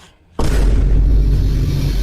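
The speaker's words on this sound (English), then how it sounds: "these Vine booms are wild" A Vine boom sound effect in a zombie apocalypse movie recap hits once, loud and deep, after a brief quiet moment, then rings out with a long low rumble.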